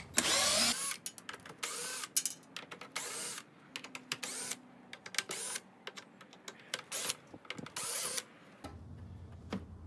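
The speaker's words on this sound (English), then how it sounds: "You're removing all the torque screws." A power tool whirs in short bursts as it backs torque screws out of a Jeep JL tire carrier, close, loud, and stop-start, with brief pauses between screws.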